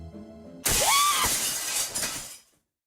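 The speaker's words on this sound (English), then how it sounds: "I wasn't really scared from the sound of the breaking glass" Glass shattering in the Limbus Company video game, a sudden loud crash with a bright ringing sweep and scattered tinkling shards that decay over about two seconds, preceded by a low tonal hum.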